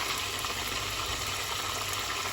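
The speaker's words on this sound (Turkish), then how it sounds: "Köftelerde son bir posta daha kızartıyorum." Meatballs (köfte) fry in a pan with a steady, soft sizzle and crackle, continuous and fairly close, without speech.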